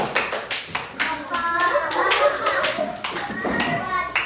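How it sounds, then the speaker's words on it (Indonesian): Schoolchildren in a classroom clap their hands in a lively burst of sharp, quick claps, with children's voices calling out between and over the clapping. "tepuk tangan lagi nak yang meriah"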